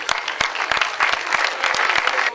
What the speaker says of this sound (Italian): soprattutto un applauso a questi bambini